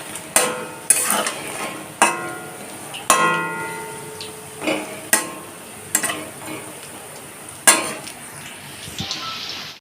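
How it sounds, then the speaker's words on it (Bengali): Soybean pakoras fry in oil over a low flame, a soft steady sizzle punctuated roughly every second by sharp metallic clinks and scrapes as a utensil turns them, with no talk. "একটা দিক হালকা ভাজা হতেই পকোড়াগুলোকে এখন উল্টে দিচ্ছি।"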